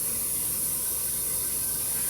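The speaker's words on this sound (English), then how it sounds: "Water boiling." A pot of hot water boils on a home stove while cooking brown basmati rice, giving a steady, close hiss of bubbling and steam that runs on without a break and without talk.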